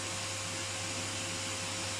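A household vacuum cleaner runs close by with a steady, even whooshing roar and a low motor hum, unbroken for the whole stretch, with no voices.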